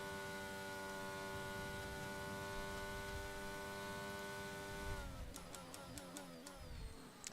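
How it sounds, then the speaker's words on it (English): A steady, high-pitched tonal whine from a Mercedes Formula 1 car engine in the racing game F1 22 holds constant for several seconds, then shifts into a run of sharp, rising gear-change blips near the end. "That Mercedes engine is singing."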